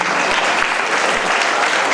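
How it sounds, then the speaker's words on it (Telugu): Audience applause at a women's contest in Vijayawada, the crowd clapping steadily and densely throughout, loud and close, with no talk over it. "చప్పట్లు కొడితే బాగుంటుంది"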